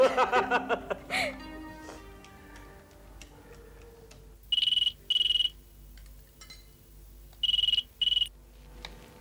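A few ticking clicks, then two pairs of short electronic ring bursts separated by a pause, fairly clear against a quiet background.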